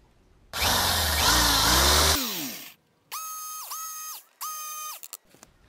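A power drill bores a pilot hole into a wooden glide fishing lure, with one long whirring burst, then several short whining spin-ups and stops, close and loud, no voices.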